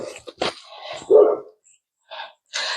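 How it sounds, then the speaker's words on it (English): A dog barks a few times outdoors in a garden during container planting, short sharp barks at moderate distance with a louder burst in the middle, separated by brief silences. "I don't know what he's barking at."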